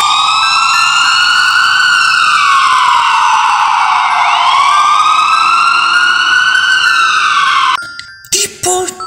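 An ambulance siren sounds loud and close, with a smooth, slow wail rising and falling continuously. It cuts off abruptly near the end, leaving brief scattered noise.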